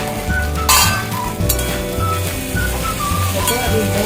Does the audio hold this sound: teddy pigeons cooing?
no